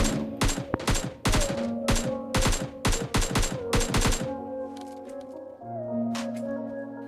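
Rapid bursts of gunfire from several players in the mobile battle-royale game PUBG Mobile Lite crack in a dense rhythmic volley for about four seconds, then give way to quieter game tones and a lone distant shot.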